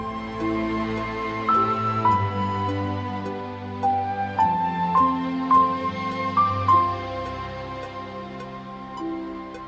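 Orchestral melody in which a flute line joins the second phrase, adding high sustained notes over layered strings and low harmony, playing continuously at steady moderate loudness with no talking.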